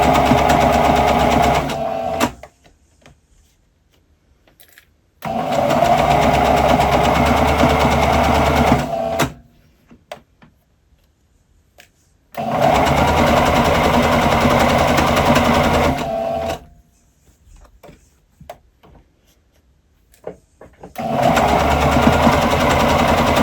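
A sewing machine stitching a dressing gown robe runs in four loud, steady bursts of several seconds each, broken by near-silent pauses, close up with no talking.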